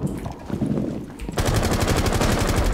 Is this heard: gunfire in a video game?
yes